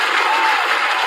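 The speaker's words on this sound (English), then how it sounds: "we got to give you a round of applause for that" A brief, steady wash of applause from an audience at a talk on healing and wisdom, dense and even throughout with no distinct individual claps standing out.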